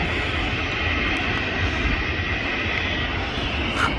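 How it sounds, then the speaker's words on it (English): Passenger jet, an IndiGo or easyJet airliner, taking off seen from an airport viewing park, a steady broad engine roar at moderate distance, constant throughout with no voices. "So in short order, we're going to have Indigo and EasyJet taking off."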